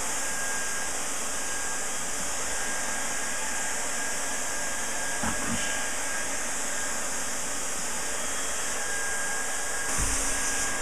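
A heat gun blows a steady, loud roar across thick floor tile for the whole stretch, with only a few faint knocks underneath.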